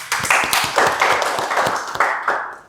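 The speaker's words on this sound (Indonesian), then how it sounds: "Kita beri aplaus untuk Mas Aji" A small group claps in appreciation for Mas Aji during an online lecture session, a brief round of several people's hands clapping in uneven bursts, close and fairly loud, without talk.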